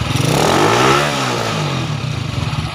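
Motorcycle engine converted from contact-point to CDI ignition catching on one kick and revving, a close rising and falling buzzy drone with a fast throbbing pulse.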